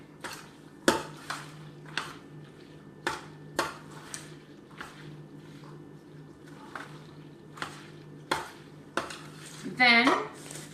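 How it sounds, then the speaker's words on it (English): A spoon mixing cooked macaroni with hot buttery liquid in a dish, a dozen separate clinks and scrapes against the dish at an uneven pace, close and fairly quiet, ending in a brief rattling burst. "I'm going to pour the hot buttery liquid over my macaroni"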